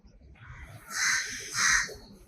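Two harsh crow caws in a row, moderately close, over a faint low background rumble.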